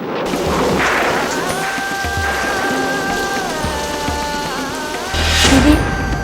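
Heavy rain pours steadily through a storm, with thunder rumbling low beneath it and a louder clap swelling near the end, and no voices.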